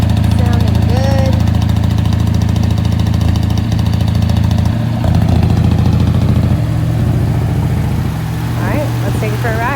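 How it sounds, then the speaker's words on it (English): A 1957 Ford Fairlane with a 390 V8 idling steadily through its dual exhaust, a loud, smooth low rumble close by that holds its rhythm throughout, with a few faint squeaky sounds near the end. "Okay, we got the Ford Fairlane up and running here."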